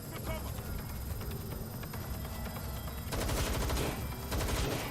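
Rapid automatic gunfire in a shooter video game during a live stream, bursts running continuously and growing denser partway through, with a player talking over the shooting.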